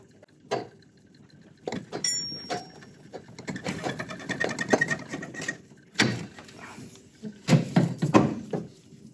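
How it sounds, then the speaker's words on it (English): An old alternator being wiggled out of its mounting bracket on a VW Mk1/Mk2 makes close metallic clunks, scrapes and rattles in irregular bursts with short quiet gaps between them. "Now we just have to wiggle it out of this bracket a little bit."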